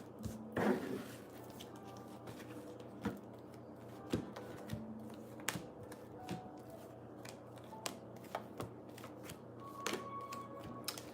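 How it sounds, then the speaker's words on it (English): Tarot cards being shuffled by hand for a reading, a series of quiet, irregular soft snaps and riffles spaced a second or so apart over a low room hum, close and faint, with no talking. "Let me just get these cards shuffled, and then I'll do a collective reading."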